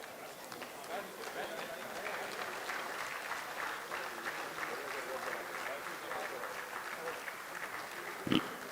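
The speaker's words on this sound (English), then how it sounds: "Let's give a round of applause." Sustained applause from a crowd at an alumni convention, steady clapping that carries evenly for several seconds before a brief loud thump near the end.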